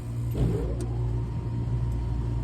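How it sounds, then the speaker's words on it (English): A Lennox L series HVAC blower motor starts up: a low, steady motor hum swells briefly, then settles into a continuous rumble. It is fairly close and loud, with no talking. "We might have an issue with our blower. Let's push the blower contactor in."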